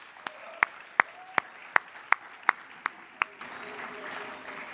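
A few scattered hand claps in a church congregation for returning mission-trip youth, sharp and separate at a steady beat before giving way to soft background murmur.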